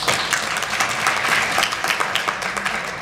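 A crowd claps hands in steady, dense applause that runs unbroken for about three seconds, loud and close.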